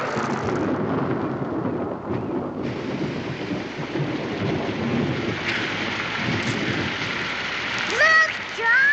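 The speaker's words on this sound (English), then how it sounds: "Look, Josh, it's raining." Steady broadband hiss of rain falling throughout, with a low rumble underneath and a brief higher sound near the end.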